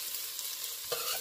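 Green onions and garlic sautéing in a pan for a potato soup, a short steady sizzle with a brief stir-like clatter near the end, close and moderately quiet with no talking.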